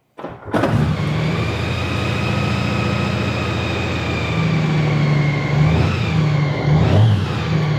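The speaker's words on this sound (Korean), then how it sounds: "시동 한번 걸어 보겠습니다." A used Honda Gold Wing DCT motorcycle with a slightly rough engine at high mileage starts with a sharp crank after a brief silence, then settles into a loud, steady, close idle with slight swells in pitch.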